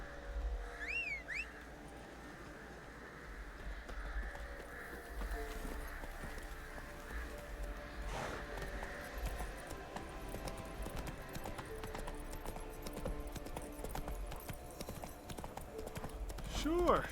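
Horse hooves clip-clopping in the video game Witcher 3, a steady rhythmic trot under game music and occasional whistles, with voices speaking over it.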